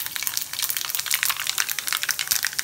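Mustard seeds and cumin crackle and sizzle in hot oil, a dense bright hiss peppered with quick close pops throughout, with no voices.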